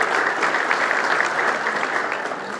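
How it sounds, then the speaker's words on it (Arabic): An audience at an open public talk applauding warmly, a dense, steady wash of clapping that holds evenly and fades slightly at the end. "هذا الجمهور الأنيق الذي يستحق أن نصفق له بحرارة"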